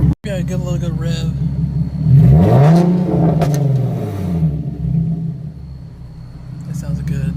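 A Nissan 370Z engine revs up in a rising, then falling, deep rumbling swell, close and loud. A voice speaks over the idle before and after the rev.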